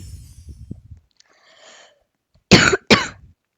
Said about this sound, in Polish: No ja trochę kaszla